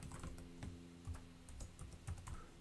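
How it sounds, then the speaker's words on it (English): Password keys tapped on a computer keyboard at an Azure SAML sign-in prompt, a quiet run of quick, uneven clicks and clacks close to the microphone with no talking. "and then type in my password"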